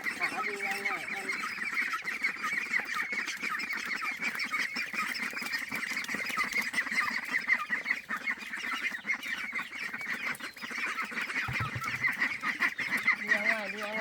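Ducks and chickens calling together at a farmyard in Vietnam, a steady chorus of honking, quacking poultry voices that runs continuously and fairly close throughout, with no talk over it.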